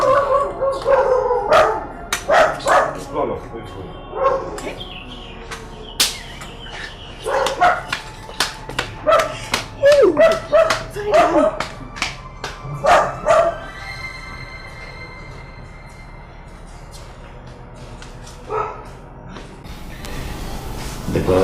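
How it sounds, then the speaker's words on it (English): A dog barks repeatedly inside a palace, in loud irregular bursts with some howling, moving from close to a little farther off, while people talk in between. "Imagine even the dog in the palace is chasing you away."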